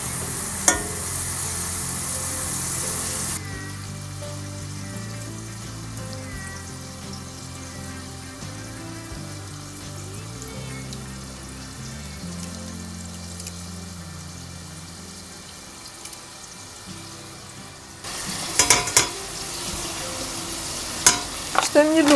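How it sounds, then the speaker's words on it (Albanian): Butter and a spoonful of flour sizzle gently as they are stirred in a pot for an Albanian soup, with steady low frying noise, a few scraping stir strokes, and louder clatter near the end. "Shtojmë dy lugë gjalp. E lëm të shkrihet dhe do të kaurdisim një lugë miell."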